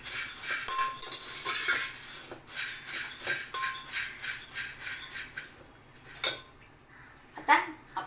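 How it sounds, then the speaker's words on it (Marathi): Puffed rice and puffed paddy being mixed together for chivda, giving a steady dry rustle broken by clinks of a spoon against a bowl, close and moderately loud, with no talking. "आता हे सगळं आपण मिक्स करून घेणार आहोत."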